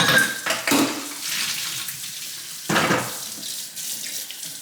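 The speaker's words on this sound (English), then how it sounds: "I'm going to rinse and drain them like we did before." Tap water runs into a kitchen sink as a third of a cup of raw cashews is rinsed, a steady close splashing flow with brief surges and light clinks of dishes, no talking.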